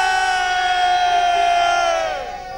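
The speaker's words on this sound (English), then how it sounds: "So let's have a cheer for India" A cricket crowd cheers for India, a sustained roar of many voices with high whoops rising together, loud and close, then tapering off at the end.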